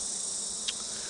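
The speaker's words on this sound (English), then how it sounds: "you've got a large quantity of bees clustering between the screen and the pest" Bees clustering at a Flow Hive set on a hillside give off a steady, close, even buzzing hum that carries through the whole moment without talk.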